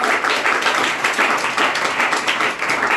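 An audience at a farewell programme for a guest talk claps in a dense, steady burst of applause that fills the room and carries on throughout.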